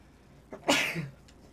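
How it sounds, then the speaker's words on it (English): A single sharp sneeze in a Night City café in Cyberpunk 2077, with a short intake of breath followed by a loud, close burst that quickly fades, heard alone. "One of those sneezes."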